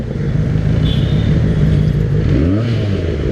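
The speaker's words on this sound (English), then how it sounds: "Oh my God, killer exhaust." A Benelli 600i motorcycle fitted with a modified Ixil exhaust revs loudly and steadily up close, its deep rumbling note rising and falling in pitch near the end.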